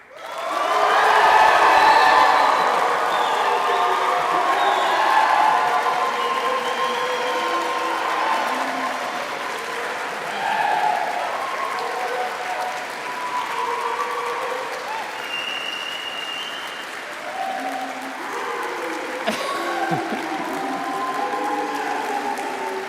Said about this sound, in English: Will you please applaud them in return?